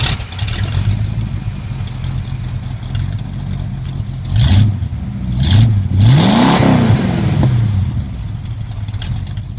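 A Chrysler Cordoba race car engine rumbles at a steady idle, then blips up in a few rising revs that swell loudly before settling back, close by with no talking.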